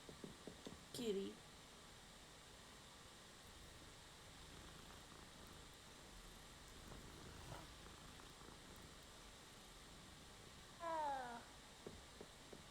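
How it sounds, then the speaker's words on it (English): A cat in the video game Hogwarts Legacy gives two short meows, one near the start and one near the end, over a faint steady background. "Kitty."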